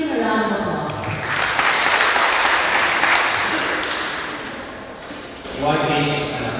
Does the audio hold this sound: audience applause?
yes